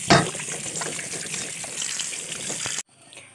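Tap water runs steadily over jackfruit pieces being washed, a close continuous splashing that cuts off abruptly near the end.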